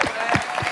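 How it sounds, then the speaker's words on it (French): Audience clapping at a live French entertainment show, loud and close, in a few uneven bursts over less than a second. "On applaudit pour ça."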